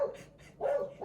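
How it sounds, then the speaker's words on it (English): A dog barks in a suburban back garden, two or three short, moderately close barks separated by brief pauses, with quiet outdoor air between them. "She's barking at another dog barking somewhere else in suburbia."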